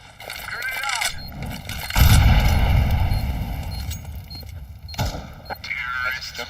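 A grenade blast in the shooter CS2 lands as a loud, broad burst that rumbles and decays over a few seconds. A second, sharper bang follows shortly after, with game noise and talk around it.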